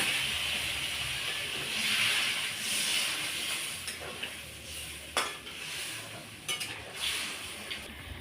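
Water poured into a hot pan of frying fish for a fish and potato curry, a loud, sustained sizzling hiss that gradually settles, with a few clinks and scrapes of a utensil against the pan near the end.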